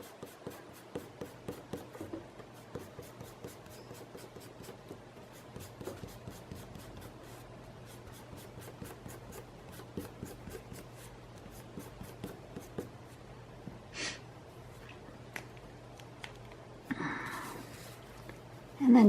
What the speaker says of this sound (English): now I'm going to erase all those pencil marks